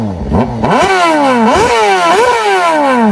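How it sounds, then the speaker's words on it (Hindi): A Honda CBR motorcycle revs hard through its exhaust, the engine note climbing in repeated loud, close sweeps, each throttle blip rising sharply then dropping back. "चलो फिर सबसे पहले होंडा CBR का एग्जॉस्ट साउंड पावर देख लेते हैं।"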